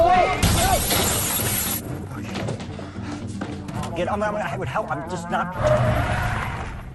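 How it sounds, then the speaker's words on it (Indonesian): A shop window's glass smashed in a film scene: a loud shattering crash opens, with scattered tinkling debris and dramatic film sound following, under continuous talk throughout. "Kelly pun memecahkan kaca tokonya"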